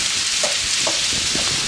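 Sausages frying in a pan for a sausage-and-egg dish give off a steady, close sizzle with a few soft stirring knocks, and no voices are heard.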